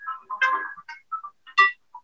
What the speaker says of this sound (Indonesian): sebentar ya, ada telepon penting